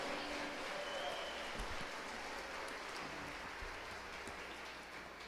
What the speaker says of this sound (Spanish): Dale más fuertes aplausos a nuestro Dios.